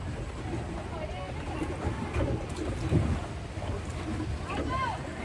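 Small boat cruising on Karanji Lake, a steady low rumble with water and wind noise throughout, a few faint birdlike chirps on top, and no speech.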